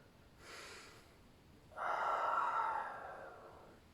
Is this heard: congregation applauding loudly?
no